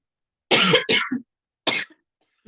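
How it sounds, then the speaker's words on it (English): Several harsh coughs in quick bursts, close and fairly loud, separated by brief silences. "that was a cough that tickled in my throat"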